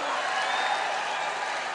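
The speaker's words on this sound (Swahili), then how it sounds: "Hebu pigeni Bwana makofi wa Kristo wapendwa" A church congregation claps for the Lord in a steady, dense wash of applause from many hands, with voices mixed into the crowd noise.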